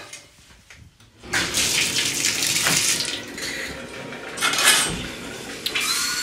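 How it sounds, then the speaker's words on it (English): Shower water switched on and running steadily after a brief pause, a broad hissing spray with splashing bursts, close and fairly loud with no talking. "So I'm gonna get into the shower. Let me just turn this on."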